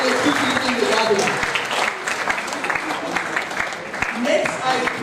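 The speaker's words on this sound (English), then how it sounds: "please welcome sir with a huge round of applause as he takes center stage" Sustained applause from a conference audience fills the hall, dense steady clapping at a constant loud level with a slight dip midway, no voices rising above it.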